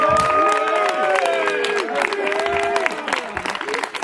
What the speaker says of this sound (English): Can we give a big round of applause to Amy Dillenberg, who also was with us?